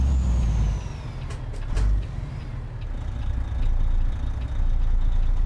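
Truck air brakes in American Truck Simulator release short, sharp hissing bursts over a steady idling diesel rumble, with a few quick pneumatic puffs near the start and middle.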